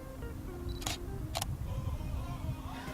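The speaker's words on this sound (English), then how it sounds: "Now if I touch the screen, it's going to focus and fire the shutter." A Canon EOS 650D (T4i) fires its shutter from a touch on the screen. Two quick, close mechanical clicks snap out over a low background hum.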